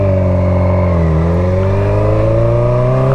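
Kawasaki Z125 motorcycle engine revving loud and close, its pitch dipping briefly then climbing steadily through a short burst of acceleration.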